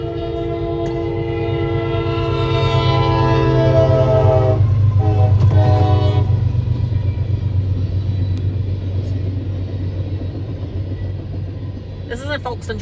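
A train rolls past in Folkston, Georgia, with a deep steady rumble and a loud sustained horn blast early on, then fading clatter of railcars as it continues by.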